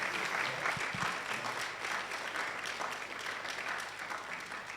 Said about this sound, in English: I'd like another round of applause for the University of Kabarak, who did an excellent job.